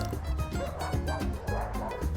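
Dogs barking in a Buenos Aires park: a run of repeated yaps and barks at fairly steady intervals over a constant outdoor background, with a voice faintly present.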